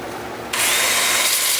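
Wood lathe turning a mesquite piece while it is sanded, switched to reverse: a quiet hum that jumps to a steady, bright, close-up whirring hiss of abrasive against spinning wood, with no voices.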